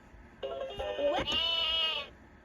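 One recorded sheep bleat from a 2007 Leapfrog Fridge Farm magnetic toy, a single drawn-out, quavering baa lasting about two seconds, close and clear over light room noise.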